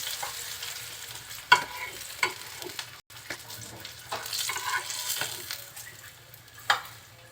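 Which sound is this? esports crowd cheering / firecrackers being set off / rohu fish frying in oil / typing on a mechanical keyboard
rohu fish frying in oil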